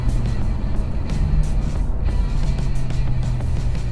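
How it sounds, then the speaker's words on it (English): A 2015 Ford Fusion turbo accelerating hard from a standstill toward 60 mph, its engine droning steadily from inside the cabin with a low, even hum and no talking. "Zero to 60 in the Fusion."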